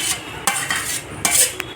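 A spoon scrapes and knocks against a pan while egg is stirred into fried rice, with a few sharp metallic clinks in quick succession over a soft background sizzle and no talk.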